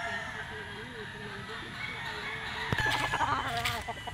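A Kelso gamefowl rooster clucks and calls at a game farm, brief and fairly close, with someone talking over it and a sharper burst of bird noise near the end.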